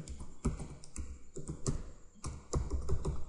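Fingers typing code on a computer keyboard, a close, uneven run of crisp key taps with occasional heavier strokes, clicking along steadily with no talking.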